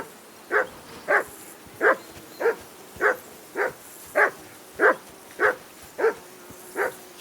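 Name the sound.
dog barking in video game Kingdom Come: Deliverance 2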